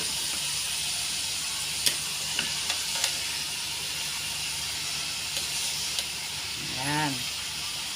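Ginisang repolyo, cabbage sautéed with tuna, sizzles steadily in a pan while being stirred, with a few light scraping clicks from the utensil and a brief vocal-like sound near the end.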